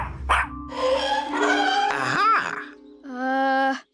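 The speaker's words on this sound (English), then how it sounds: "Didn't sound like a fluffy to me. Meet Fluffy the dinosaur." A cartoon dinosaur lets out a loud barking, yelping call like a dog, with sliding moans and a final sustained bark-like cry, heard alone and up close.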